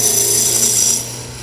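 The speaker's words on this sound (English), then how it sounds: "the shape lends itself to working with strictly the roughing gouge" A roughing gouge cuts wood spinning on a lathe while a toothpick dispenser is being turned, giving a steady, hissing scrape with the lathe's hum beneath it that eases off in the last half second.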